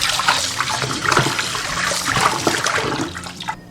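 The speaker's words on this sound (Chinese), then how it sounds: "先清水把它多清洗几遍。" Rinsing dried bamboo shoots under a steady stream of clean tap water, a loud continuous splashing and gurgling close by that runs the whole time and then stops.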